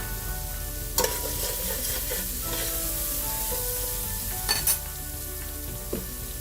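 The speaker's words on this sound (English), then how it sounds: "we're going to brown our onions" Onions brown in extra virgin olive oil in a pan over medium heat, sizzling loudly and continuously up close, with a few sharper scrapes and clatters of a utensil along the way.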